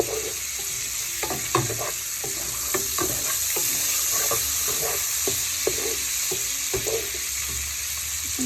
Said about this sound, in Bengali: চিংড়ি মাছগুলির মধ্যে আমি একটু করে লবণ দিয়ে দিয়েছি সামান্য পরিমাণে কিছুটা ভাজা হয়ে গেলে আমি পেঁয়াজ দিয়ে দিব